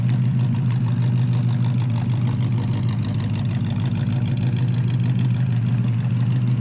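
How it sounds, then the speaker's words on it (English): A 1953 Chevrolet 210 Club Coupe with a V8 idles in a steady, loud low rumble, close and continuous with no speech over it. "It's got a nice V8 in it."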